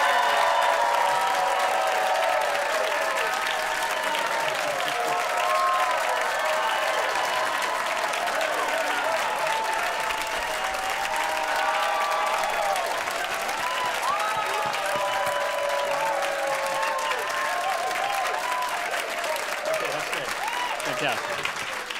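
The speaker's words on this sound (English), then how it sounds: "Let's give them a huge round of applause." A theater audience applauds the actors after a stage reading, steady full-room clapping with some cheering that holds loud and even throughout.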